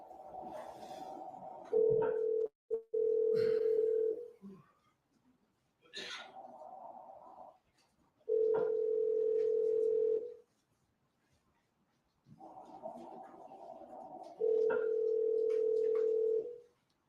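Outgoing phone call ringing unanswered before reaching voicemail, with repeated long ring tones separated by pauses and faint background talk between them.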